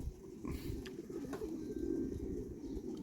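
Racing pigeons coo in a loft, a low, steady murmuring of several birds that runs through the whole stretch, with faint flutters and brief chirps over a constant ambient hum.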